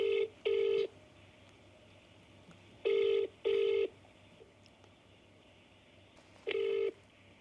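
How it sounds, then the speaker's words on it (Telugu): Ringback tone of an outgoing telephone call: loud paired beeps, a double ring repeated three times with pauses between, and no voices. "రింగ్ అవుతుంది."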